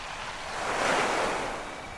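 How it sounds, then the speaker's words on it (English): Ocean waves break softly on a coastline, a single wash of surf swelling and fading in a broad steady hiss with a faint wind rush, alone and fairly close. "as they listened to the soft breaking of the waves"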